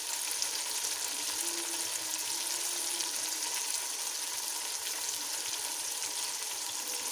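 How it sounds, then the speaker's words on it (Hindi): Onions frying to light brown in a pan for beef macaroni give a constant close crackling sizzle, even and unbroken, with no voices. "हम बीफ की मैक्रोनीज़ बना रहे हैं, इसलिए ये प्याज को हम लाइट ब्राउन कर रहे हैं।"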